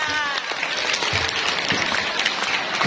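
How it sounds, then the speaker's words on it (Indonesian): A room of students at SMP Negeri 9 applauds during an anti-bullying program, a full burst of dense clapping with a few voices mixed in beneath it. "tepuk tangan Pak Maju"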